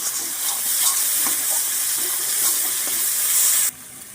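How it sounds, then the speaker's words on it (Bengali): Chili powder and mixed spices sauté in hot oil for a village-style charapona fish curry, a bright hissing sizzle with soft stirring knocks that cuts off abruptly near the end. "এবার আমি সমস্ত মশলা ভালোভাবে একটু কষে নেব।"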